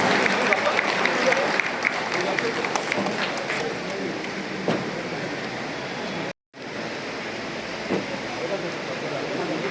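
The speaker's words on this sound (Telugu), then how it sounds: "షబీర్ గారిని చప్పట్లతో స్వాగతిస్తున్నారు." Long burst of crowd clapping at a Kargil Vijay Diwas event welcoming a guest, thick and sustained with a brief cut partway through, and people talking beneath it.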